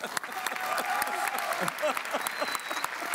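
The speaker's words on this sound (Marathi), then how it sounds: "त्यामुळे जोरदार त्यांना टाळ्या वाजून त्यांचं स्वागत करूया आपण" A studio audience claps to welcome a guest on a Marathi comedy show, a dense sustained round of applause with sharp individual claps standing out, fairly close and loud throughout.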